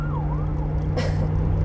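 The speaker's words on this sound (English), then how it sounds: "there went an ambulance" A passing ambulance siren rises and falls in pitch close by, loud over a steady low engine drone with a brief burst of noise near the end.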